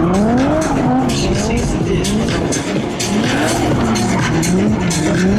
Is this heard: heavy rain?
no